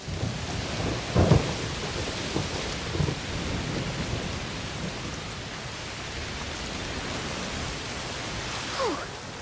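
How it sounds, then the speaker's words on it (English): Heavy rain hisses steadily in a thunderstorm in the video game A Plague Tale: Requiem, with a few rumbles of thunder early on over the constant downpour. "it's raining a lot. Yes. Must be a heat storm."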